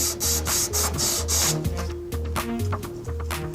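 Plastic pipe rubbed with sandpaper in quick rhythmic back-and-forth strokes, a close, fairly loud scratchy rasp repeating several times under a background music bed.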